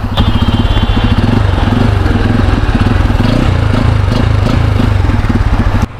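A 250 cc naked motorcycle engine runs close by with a loud, steady, throbbing exhaust pulse, the rhythm holding evenly before a slight drop at the very end.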